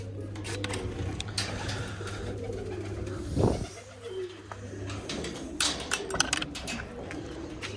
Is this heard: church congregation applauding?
no